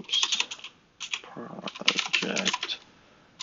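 Command being typed on a computer keyboard: bursts of quick, close key clicks with short pauses between runs and a brief gap near the start, no talking over it.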